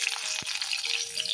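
Onions hit hot oil with a close, bright crackling sizzle that holds steady through the brief moment, marked by a small clink of a utensil.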